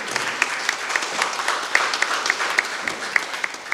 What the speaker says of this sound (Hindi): हम सभी जोरदार तालियों के साथ